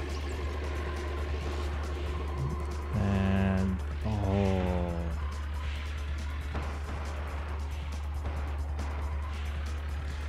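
Racing in the RC Revenge Pro video game: a constant buzzing engine drone with a couple of brief tonal revs or squeals midway, heard under a player talking.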